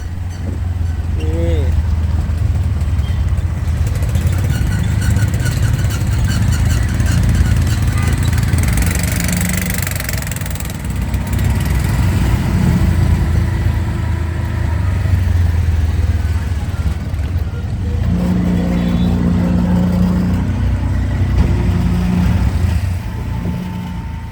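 Motorized tricycles run along a Cambodian road with a steady, loud engine drone that rises and falls slightly, while people talk over it.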